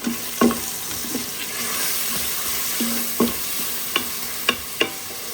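A spoon stirs spice into mutton biryani in an Instant Pot, giving a soft continuous sizzle punctuated by several distinct scrapes and knocks against the pot, close up with no voices.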